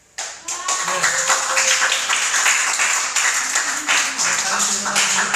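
A church youth congregation applauds warmly for students called out on their birthdays, a dense sustained wash of many hands clapping at steady loudness, with a few voices and cheers mixed in.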